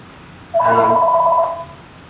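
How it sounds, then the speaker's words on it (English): A telephone rings once with an incoming fax call, a loud electronic warbling tone lasting about a second in an otherwise quiet room, with no talk over it. "and there goes the phone. It's a fax, don't worry."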